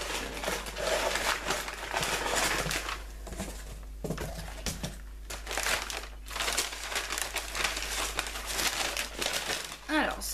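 Red tissue paper crinkles and rustles steadily as a subscription book box is unwrapped, with bursts of crumpling close by over about ten seconds.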